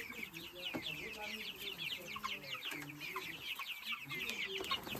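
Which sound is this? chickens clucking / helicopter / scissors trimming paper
chickens clucking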